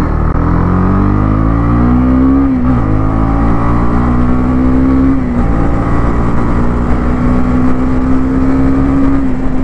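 Honda CB300R motorcycle engine under hard acceleration on a road test ride, droning loudly and climbing steadily in pitch, with brief dips at gear changes before pulling up again through several gears.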